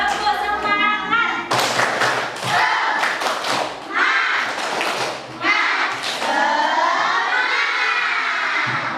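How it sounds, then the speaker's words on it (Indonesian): A school class performs the tepuk semangat, a rhythmic clapping cheer: bursts of patterned claps alternating with children chanting together, loud and close in a classroom. "mari kita lakukan dulu tepuk semangat"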